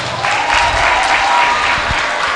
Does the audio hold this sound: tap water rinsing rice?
no